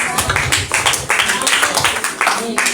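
A church congregation claps in a quick, steady rhythm, the close, bright claps repeating several times a second while voices carry along with them.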